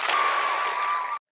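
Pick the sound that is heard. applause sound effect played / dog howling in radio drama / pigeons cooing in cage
applause sound effect played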